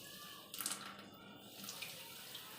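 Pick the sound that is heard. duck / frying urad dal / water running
water running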